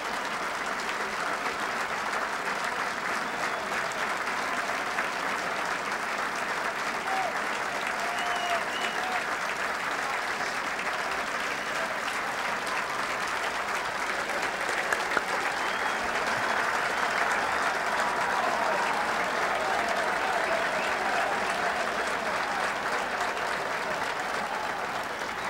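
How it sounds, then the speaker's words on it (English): Sustained applause from a large outdoor golf gallery at the 1986 Masters final round, a dense even patter of clapping that continues without pause throughout. "listen to the applause for Kite and for Ballesteros."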